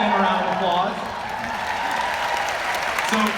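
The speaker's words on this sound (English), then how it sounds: "Let's give them a round of applause." Convention crowd applauding first-time attendees, a broad moderate wash of clapping with a voice speaking over the start and end.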